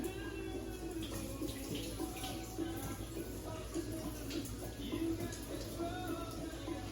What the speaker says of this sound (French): J'enlève l'eau de riz.